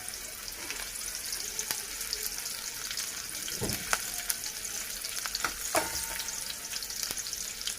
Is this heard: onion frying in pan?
yes